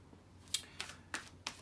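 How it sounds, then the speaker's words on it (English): Tarot cards are shuffled in a few quick riffles, four crisp slapping bursts close up in a quiet room. "let me just shuffle the cards"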